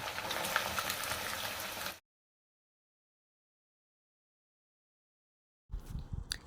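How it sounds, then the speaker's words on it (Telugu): Sliced onions fry in hot oil for chicken dum biryani, a loud bubbling sizzle for about two seconds, then silence, then the sizzle returns faintly at the end. "ఇక్కడైతే ఫ్రైడ్ ఆనియన్ చేస్తున్నాను"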